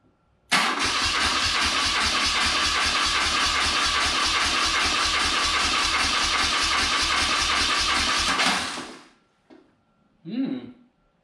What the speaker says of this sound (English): Little backfire out of this right side.